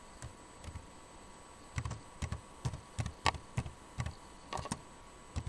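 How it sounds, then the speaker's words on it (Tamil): A Python program is typed on a computer keyboard in a quiet room, with crisp, close key clicks in uneven bursts and short pauses between them. "இப்போ நம்ம ப்ரோக்ராம் டைப் பண்ணலாம்."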